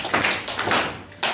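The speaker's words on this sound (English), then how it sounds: "Clap hands." A classroom of students claps hands in a short burst of sharp, quick taps, loud and close, with brief pauses between clusters of claps.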